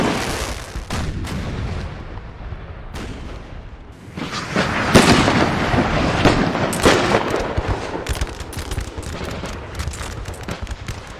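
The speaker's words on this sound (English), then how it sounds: "Napoleon ordered his artillery to shell Hougoumont" Artillery shelling sound effect for the Battle of Waterloo bombardment of Hougoumont: a dense, loud barrage of booming blasts and crackling impacts that intensifies midway and continues steadily.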